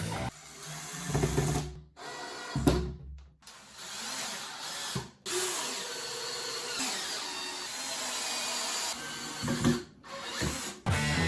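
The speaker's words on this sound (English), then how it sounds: "Enjoy the brief sounds of me drilling all the pocket holes." A power drill whirs in repeated bursts while drilling pocket holes in wood, spinning up and cutting off several times with short pauses between, close and fairly loud.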